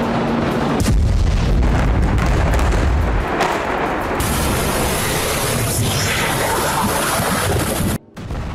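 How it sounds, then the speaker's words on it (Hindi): Bombing in southern Lebanon targeting militant weapons depots and rocket launch sites, heard as a continuous loud rumble of heavy explosions and booms with crackling debris, filling the whole stretch before a brief drop near the end. "IDF ने लेबनान के उन इलाकों में बमबारी की जहां हिजबुल्ला के ठिकाने, मिसाइल और रॉकेट लॉन्च साइट मौजूद है।"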